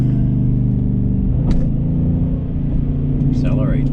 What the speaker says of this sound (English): Accelerates pretty quick when you're in that gear.